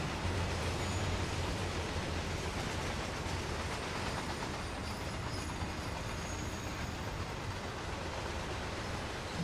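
A train in Train Simulator World slows to a stop, producing a steady, dense rumble of rolling wheels and wagon noise that holds at an even level throughout, with no speech.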